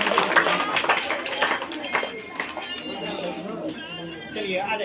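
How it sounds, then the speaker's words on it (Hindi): Audience applauding a student at a school award ceremony, dense clapping and crowd chatter throughout, with a voice speaking over the noise. "चलिए वंशिका के लिए ताली बजाया जाए। ताली बजाइए।"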